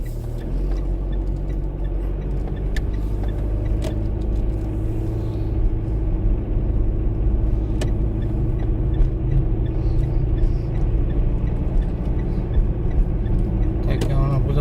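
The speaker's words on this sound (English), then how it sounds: "See how much traffic's going on." Steady road traffic rumbles outside the terminal at Melbourne Airport in the early morning, a continuous low engine drone from cars and buses with occasional passing vehicles, fairly loud throughout, with a voice talking over it.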